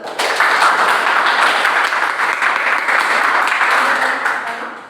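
A classroom audience applauds for about five seconds, a dense steady clatter of many hands clapping together, holding at an even level before tapering off slightly at the end, with no talking over it.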